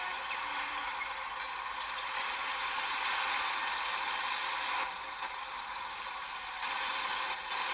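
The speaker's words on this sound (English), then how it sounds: "Boy, that engine doesn't sound very good." A steady, rough engine drone runs throughout, a harsh, buzzing idle that stays constant and fairly loud with no talking.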